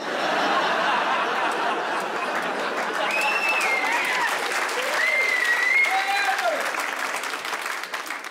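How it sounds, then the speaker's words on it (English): Steady applause from a live comedy audience, full and continuous throughout, with scattered whoops, whistles and chuckles rising above the clapping. "Thank you very much for that applause."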